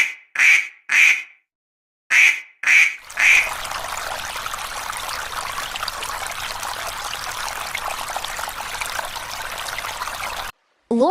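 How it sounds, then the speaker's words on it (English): Several loud, close duck quacks come in quick separate bursts, followed by a long stretch of steady rushing water like a trickling stream. "Duck."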